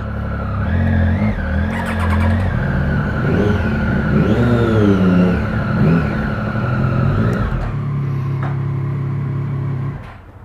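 A 2016 Triumph Speed Triple 1050R motorcycle accelerating hard on a test ride, its engine note climbing and dropping through gear changes, loud and close for about eight seconds before settling to a steadier drone and fading out.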